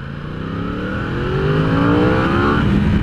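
A new Yamaha R1 sport motorcycle accelerates hard from a start, its engine note climbing steadily in pitch and loudness through the gear, close and continuous with no talk.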